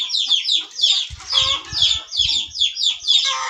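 A young chicken clucks repeatedly in quick rhythmic bursts, loud and close, with faint low rustling or movement beneath at times.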